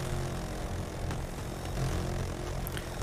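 Super-Hind transport helicopter in flight in Battlefield 2042, a dense, steady roar of rotor and engine noise filling the whole clip, close and loud without a break.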